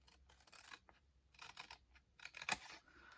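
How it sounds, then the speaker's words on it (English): Scissors snip paper while a tea light gift box is cut out for Christmas, giving several short, quiet bursts of cutting in a row with one sharper snip near the end. "I am going to cut carefully up there"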